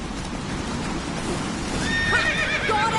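Roach, Geralt's horse in The Witcher 3 video game, gallops with rapid hoofbeats under a windy outdoor rush, then lets out a sharp, close whinny near the end.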